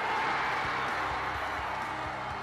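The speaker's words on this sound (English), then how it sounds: "especially when like the crowd went nuts" A basketball crowd roars in a dense, continuous wall of cheering and clapping, loud and unbroken from start to finish.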